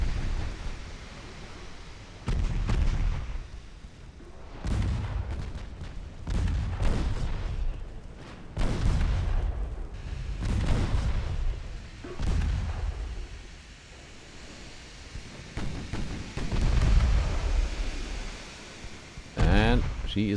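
Torpedoes detonate against a ship in Ultimate Admiral: Dreadnoughts, a 1909 naval battle, as a run of heavy booming blasts and gunfire reports rolling one after another over sea noise, with a voice speaking between them.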